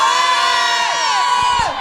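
Large audience at a live Harry Potter podcast event shouting together on request, a loud sustained crowd yell that slowly fades over a couple of seconds.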